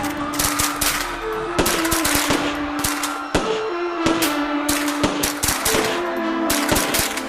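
British troops firing on a crowd gathered in an open park in Amritsar: loud, rapid, sustained gunfire in dense bursts, with a continuous tonal drone underneath.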